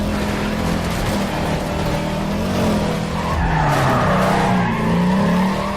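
Tires screech as a car drifts sideways in the racing game Need for Speed Carbon, a loud, continuous squeal with engine roar underneath that wavers in pitch and intensifies toward the end.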